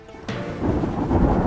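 A thunder sound effect cracks in suddenly, then settles into a loud, sustained rumble with a hiss like approaching rain. No one speaks.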